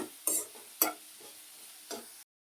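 Chopped banana flower frying in a pan with mustard seeds, a steady soft sizzle broken by a few scraping stir strokes, close and without talk, ending abruptly.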